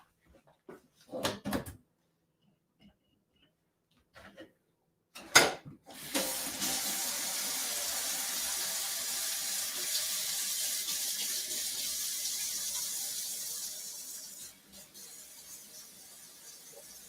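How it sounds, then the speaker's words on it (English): A kitchen tap runs while hands are washed during juice preparation. A couple of brief knocks come first, then a steady stream of water flows for about eight seconds, close and moderately loud, before it stops. "Let me wash my hands."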